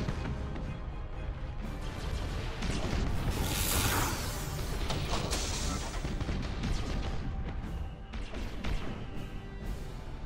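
Heavy ship cannons firing in the space warfare game Battlefleet Gothic Armada, a dense, continuous barrage of loud crashing booms and impacts that swells in the middle, with no talk over it.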